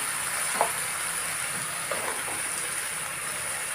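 Mushrooms frying in a pan for curry, a soft steady sizzle with occasional light stirring scrapes, close but fairly quiet.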